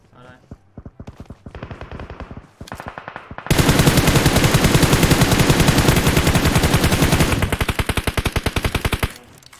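Dense bursts of rapid automatic gunfire in the PUBG Mobile video game hammer steadily for several seconds, swelling into a loud sustained volley before tapering to spaced shots, with players talking over it.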